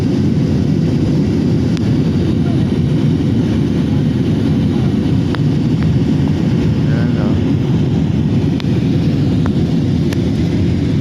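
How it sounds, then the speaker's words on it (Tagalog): Steady, loud engine drone fills an airplane cabin in flight, a continuous low roar with no break across the whole stretch. "500 meters ang taas ng lipad ngayon ng eroplano"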